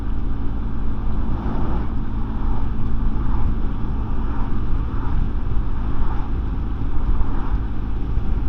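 Voge SR16 125 scooter accelerating along a road, a steady engine drone rising gently in pitch, heavily mixed with constant wind rush buffeting the microphone.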